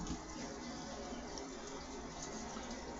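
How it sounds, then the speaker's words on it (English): Kitchen sink tap left running, a faint steady stream of water pouring into the basin, continuous and even for the whole stretch. "only because the sink is running"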